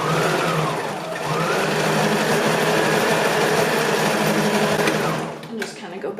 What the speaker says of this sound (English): Okay, zigzag stitch here. And then I just flip it over and zigzag on this other side.